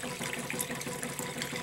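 Water running steadily over a plexiglass surface on a shaker table, a continuous broadband wash and trickle at moderate level with no voices.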